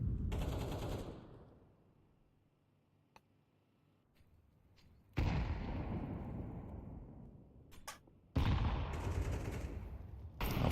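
Bouncing grenades thrown in a competitive Counter-Strike style match, heard as loud bursts of dense crackling gunfire and blasts that cut off abruptly, separated by a quiet stretch with faint ticks.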